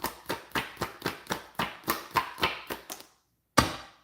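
A deck of cards riffled in a quick run of about a dozen crisp, evenly spaced bursts, close and dry, then a brief pause and one final snap.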